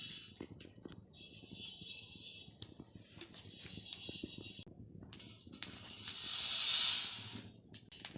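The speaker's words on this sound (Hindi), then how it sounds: "तो भंगजूर के साथ साथ मैं ये जीरा भी भून रही हूँ।" Hemp seeds (bhangjeera) and cumin roasting on a hot griddle in a village kitchen give a steady dry hiss and crackle, swelling into a louder sizzling burst near the end, with no talk.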